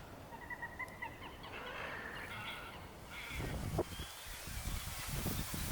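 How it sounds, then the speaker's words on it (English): A white-faced ibis gives low duck-like calls in a sanctuary wetland, a few faint repeated notes early on over a steady background hum, followed by louder rustling noise. "That sounds like a duck in the background was actually a white-faced ibis."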